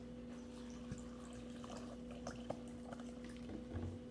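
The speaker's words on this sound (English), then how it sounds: "it's time to put water into this cup and see what happens" Warm water poured into a cup holding Pepsi and Pepsi ice, giving a quiet, steady liquid trickle with a few small splashes and drips that sound close by and soft, with no voices.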